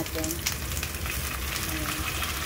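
Leftover food hits a hot pan and sizzles and crackles steadily at close range, with faint stirring noises throughout.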